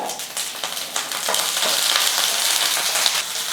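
Green chilies sauté in hot oil in a kadai, giving a steady, loud, close sizzle with soft stirring scrapes and no talking.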